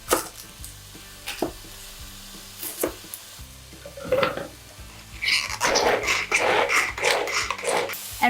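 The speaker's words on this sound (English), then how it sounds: "we'll cut, season, and sear some beef in a stainless steel pan" Seasoned beef chunks sear in a stainless steel pan with a crackling sizzle that swells louder in the second half, broken by intermittent clatter of utensils against metal and a low background hum.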